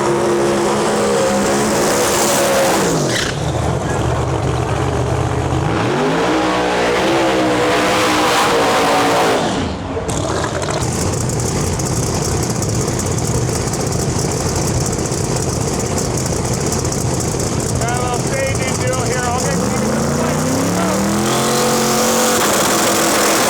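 Pro mod drag race cars in a grudge race at the Snowbird Outlaw Nationals qualifying, engines roaring loud and close down the strip, a sustained wall of exhaust noise with a brief dip midway before it surges again.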